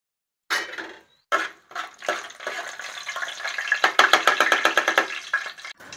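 Whole spices—cinnamon, cardamom, cloves and bay leaves—hit hot oil in a pan with a sudden crackle that builds into dense, rapid sizzling and popping, close and alone.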